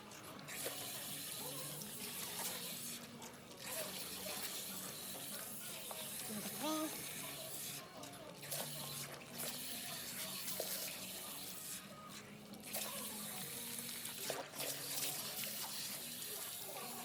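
Water runs steadily from a salon sink tap over dyed hair being rinsed, a continuous soft splashing hiss with brief interruptions as the stream shifts.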